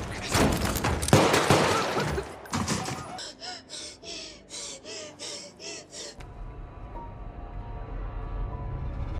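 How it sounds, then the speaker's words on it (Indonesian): Gunfire in a prison drama scene: a dense burst of shots opens, then a run of about eight rhythmic sharp reports, followed by quieter low rumble and music, with a narrator speaking. "Keduanya beradu tembakan hingga akhirnya Frigma pun tewas."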